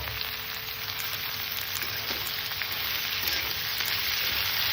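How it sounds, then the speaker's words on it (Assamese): Peas and potatoes poured together into hot oil for a Nepali-style sesame and pea pickle, setting off a steady, loud sizzle of frying that keeps on throughout with no talking. "মটৰ আৰু আলু গোটেইখিনি একেলগে ইয়াতে ঢালি দিম"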